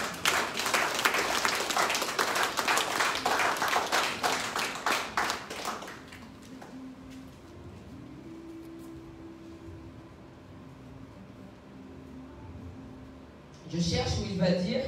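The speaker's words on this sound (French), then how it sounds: "Applaudis pour ça quand même." A church congregation claps loudly and steadily for several seconds at a French-language worship service, then the clapping fades to a quiet room with faint voices, and a brief burst of sound returns near the end.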